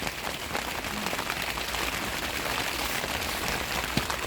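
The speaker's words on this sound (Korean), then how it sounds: "올해부터 이렇게 비가 또 쏟아지고 일주일 내내 비 소식이 있으니" Heavy rain pours onto a greenhouse sheltering potted plants, a dense, even hiss of drops that holds steady throughout, with a couple of faint taps and no voices.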